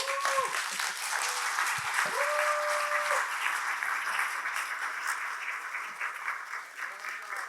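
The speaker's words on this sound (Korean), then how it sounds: "박수로 환영하겠습니다." Church congregation applauding to welcome a retired senior pastor at the opening worship of an all-church retreat, a steady dense wave of clapping lasting throughout, with a few whistle-like tones near the start.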